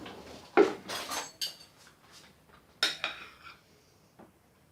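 A spoon scrapes and clinks against a metal cake tin while working cream into it, giving several close, irregular metallic taps and scrapes with quiet pauses between them.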